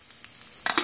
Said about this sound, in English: You can still hear them sizzling.